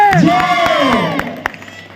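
A crowd at a Hindi patriotic poetry recital erupts loudly, voices rising in a sweeping shout and cheer with a few scattered claps, then fading as the noise trails off.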